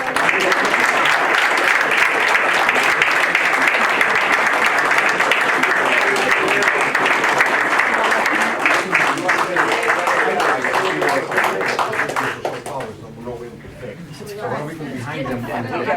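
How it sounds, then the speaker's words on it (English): A crowd gives a sustained round of applause, dense loud clapping mixed with chatter and cheering for about twelve seconds before thinning out into scattered claps and murmuring voices. "I'd like one more round of applause for everybody."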